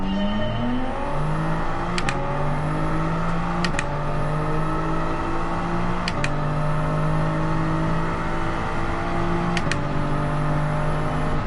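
Race car engines at the start of a Toyota Gazoo GT Cup race on the Tokyo Expressway in Gran Turismo 7. A close, loud engine climbs through the gears, with sharp clicks at each shift.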